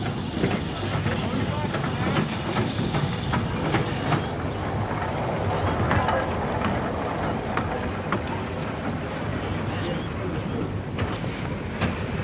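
A diesel multiple unit on a passenger working passes on a main line with loop sidings, a steady broadband rail rumble with clickety-clack wheel beats and rattling carriages throughout, loud and continuous, with a voice faintly present.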